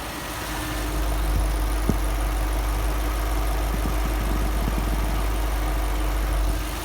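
A Lexus LS430 sits idling with its hood open, giving off a steady, low engine hum and rumble that holds even throughout, close by, with a faint click or two on top and nobody speaking.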